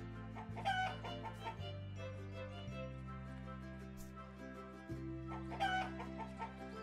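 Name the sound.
chickens clucking in video game Summer in Mara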